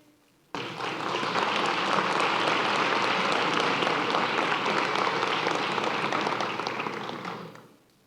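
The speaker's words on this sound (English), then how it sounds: "Again, a round of applause for our winners for this event." Applause for event winners at a school board meeting starts suddenly, holds as a steady, full clapping from a sizeable audience for several seconds, then fades out.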